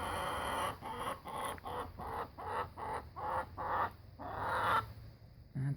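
Hens clucking nearby in a steady series of short, repeated bursts, with a faint low hum running underneath.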